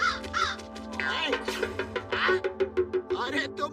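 A cartoon crow caws loudly and repeatedly in quick harsh bursts, growing more rapid toward the end, with a voice heard alongside.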